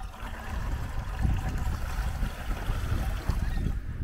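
Water is poured into a container outdoors, a low burbling, splashing flow that runs steadily for a few seconds at close range, with no talking over it.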